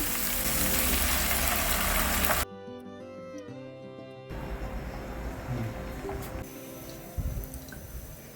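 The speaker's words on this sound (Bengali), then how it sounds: "এখন চিকেনের জলটা ঢেলে দিচ্ছি।" Chicken stock pours into a pot of chicken and vegetables, a dense splashing rush that cuts off abruptly, then low bubbling and faint stirring clatter follow.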